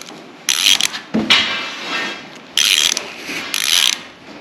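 A hand ratchet clicks in several quick bursts while tightening bolts on a car body, with sharp close ratcheting separated by brief pauses and a scrape.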